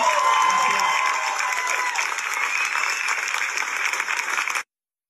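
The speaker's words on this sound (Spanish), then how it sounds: "otro aplauso para Cristian" Loud, dense applause from a concert audience cheering a singer at a live show, sustained and even before cutting off abruptly.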